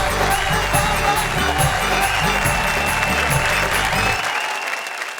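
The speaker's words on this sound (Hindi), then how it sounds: "जोरदार तालियों के साथ हम स्वागत करें।" Sustained, loud applause from a seated audience welcomes a poet onto the stage at a Hindi comedy poetry show, holding steady for several seconds before fading out abruptly at the end.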